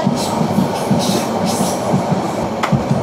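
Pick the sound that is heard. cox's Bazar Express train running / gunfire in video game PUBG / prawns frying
cox's Bazar Express train running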